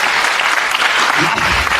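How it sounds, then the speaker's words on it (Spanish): Church congregation applauding during a Spanish-language sermon, a steady dense wash of clapping throughout with some voices mixed in. "Dale fuerte el aplauso a Cristo"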